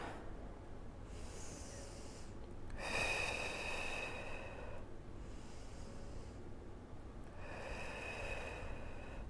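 Slow, deliberate breaths drawn in and pushed out during an abdominal workout, soft airy hisses rising and fading in a steady rhythm, faint and close with a quiet room behind.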